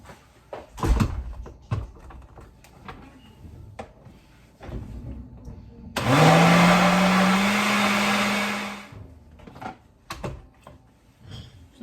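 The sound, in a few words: blender blending key lime pie cream cheese filling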